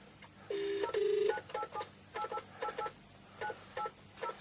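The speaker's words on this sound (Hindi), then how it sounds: "करिए फोन।" Telephone keypad dialing for a radio prank call: a few longer touch-tone beeps followed by a quick run of short, evenly spaced DTMF tones, clear and close with nothing else around them.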